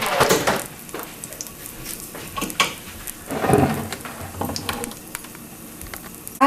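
A quarter cup of extra virgin olive oil sizzles in a hot pan. Soft crackling runs under scattered clinks, scrapes and stirring knocks of utensils against the pan.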